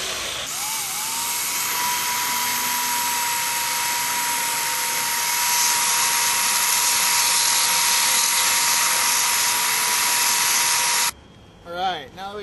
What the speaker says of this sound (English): we're just going to use the belt sander to smooth out all the edges